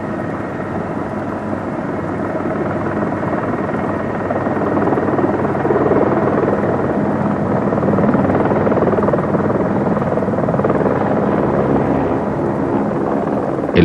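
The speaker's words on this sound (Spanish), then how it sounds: "Al oír el sonido del helicóptero, los campesinos se reúnen en los arrozales cercanos a las excavaciones" A helicopter flies over rice paddies in Vietnam, giving a loud, steady broadband rotor and engine roar that holds without a break and swells slightly toward the middle, with no voices.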